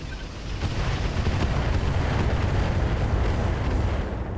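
A heavy boom and explosion from a mech weapon firing in the video game RogueTech (BattleTech), a loud, sustained rumbling blast that swells in and rolls on for several seconds.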